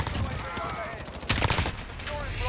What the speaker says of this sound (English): these snipers are popping off